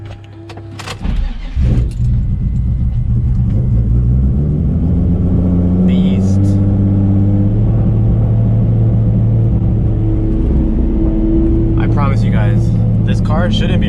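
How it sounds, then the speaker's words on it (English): A 900hp Nissan 370Z Nismo with carbon fiber parts sits idling after a cold start, its engine a loud, steady low rumble throughout, with brief higher bursts, while someone talks over it. "do these cold starts like ever get old?"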